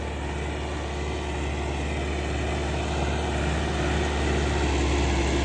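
A Massey Ferguson 385 tractor engine running with a three-tine chisel cultivator attached, a steady loud low drone that holds evenly throughout with no voices.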